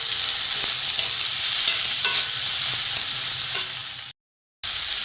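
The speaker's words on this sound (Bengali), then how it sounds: "একটু আলু, নুন, হলুদ, টমেটো একটু ভাজা ভাজা হয়ে গেছে" Potatoes, tomato, salt and turmeric fry in a pan while being stirred, a steady soft sizzle with occasional scraping clicks of the spoon, ending in a short gap of silence.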